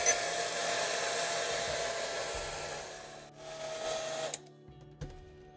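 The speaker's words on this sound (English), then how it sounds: "I am just going to be using a plain hair dryer to heat the back plate up." A plain hair dryer blows steadily on the back plate of a Samsung Galaxy S10e phone, a loud continuous whooshing hum with motor whine that stops abruptly near the end, followed by faint handling noises.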